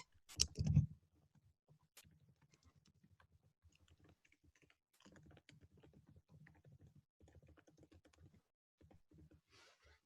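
Someone types a business tagline on a computer keyboard. Soft, close key clicks come in quick bursts with short pauses, after one louder thump at the start, and there is no talk.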